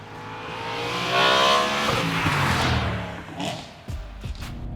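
BMW M3 engine revving up and dropping away as it shifts gears while driving, a rising engine note that swells, falls off around a shift, then rumbles again, heard from close by.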